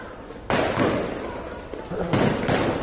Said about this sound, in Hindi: आईडीएफ को रोकने के लिए इमारतों में से चलाए गए फायरवर्क्स